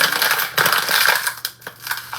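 Ice is crushed or dropped into a glass for ice water in a home setting: a loud, close, gritty rattling and crunching that runs continuously, then breaks into a few sharper clinks near the end.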